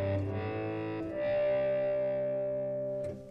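A synth lead remade from a song in Logic Pro X, with Hermode classic tuning switched on, plays sustained, effected tones. A new note enters near one second and the sound rings smoothly before fading.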